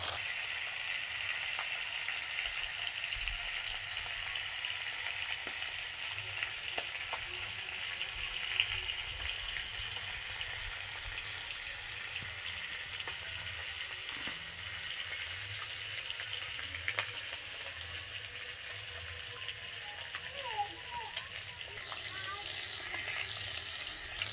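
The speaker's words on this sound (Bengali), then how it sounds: "মাছগুলো কিন্তু দিয়ে দিয়েছি এবার আমি ভেজে তুলে নেবো" Rohu fish frying in hot oil for a Bangladeshi-style curry, giving a steady, continuous sizzle and crackle that stays fairly loud and even throughout, with faint occasional clinks.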